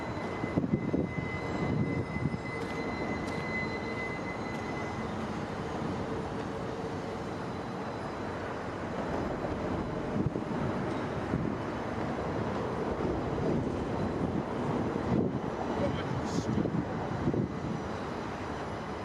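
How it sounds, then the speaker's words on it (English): Drone flying overhead while pacing a slowly creeping train near a vertical lift truss bridge in Louisville, giving a steady, loud, continuous rotor whine and wind rush with no talk. "I was able to get my drone in the air and pace the train as it crept along"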